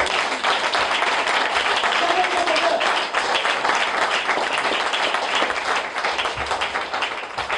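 An audience at a church seminar claps continuously for over seven seconds, a dense, loud, steady wash of applause with voices mixed in.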